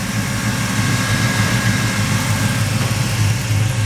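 A Chevrolet S10 engine idles steadily while its cooling fans blow, a continuous low rumble under an even rushing whoosh, close and loud, with no voices.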